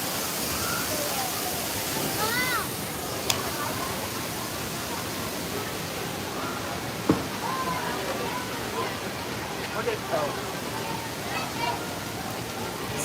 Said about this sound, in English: out of the tops of these poles they have water that just starts pouring out everywhere